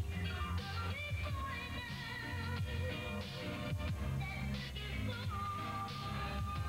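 A 1960s pop single plays at low volume, with bass, drums and layered vocals blending into a steady, dense band sound.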